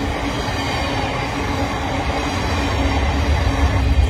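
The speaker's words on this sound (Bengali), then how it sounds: "অ্যান্ড এখন ট্রেন যাবে।" A train passes close by on a freezing winter day. Its steady, dense rumble of wheels and carriages builds louder toward the end, with a faint high squeal running through it and no talking.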